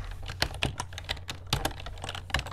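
Fingers typing on a computer keyboard at a desk, a close, steady patter of irregular key clicks over a low hum.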